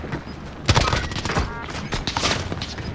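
Rapid volleys of gunshots in a multiplayer shooter game, sharp cracks clustered in quick bursts over a continuous battle din.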